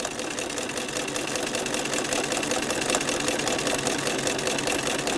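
A sewing machine stitches a quilt seam, running steadily and close up for several seconds with a dense, even mechanical whir and no pauses or talk.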